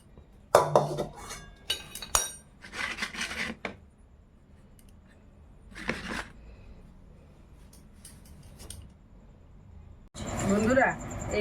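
Dishes and cutlery clink in a home kitchen as food is served, fish curry and lentil dal being plated. Short scattered bursts of clatter and scraping come up close, with a louder rattle near the end.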